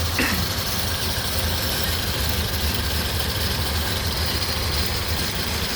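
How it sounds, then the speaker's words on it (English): The four-cylinder engine of a 1931 Ford Model A coupe idles steadily, a constant low rumble with even, continuous mechanical noise throughout. "Idling right along the way she should."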